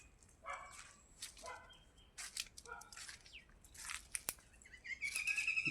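A dog barks several times at a distance in a village setting, sharp yips scattered among bird chirps and outdoor background noise.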